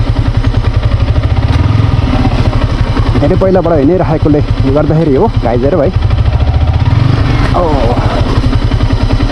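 Yamaha R15 motorcycle engine running steadily and loud throughout a rough Nepali road trip, a continuous low throbbing hum with someone talking over it.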